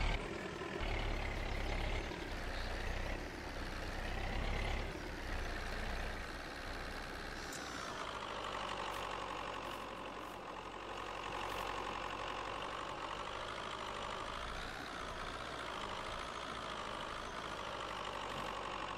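A tractor engine in Farming Simulator 22 drones steadily at idle and low revs, a continuous mid-pitched rumble with a slight rise and fall partway through, heard alone at low volume.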